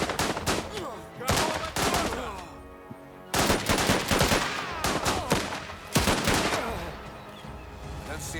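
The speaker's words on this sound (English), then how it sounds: "we'll put down some focus fire here. Deploy that machine gun." Machine gun fire from The Last Train Home game rattles in repeated bursts of rapid shots, with brief pauses between volleys, fairly close and loud.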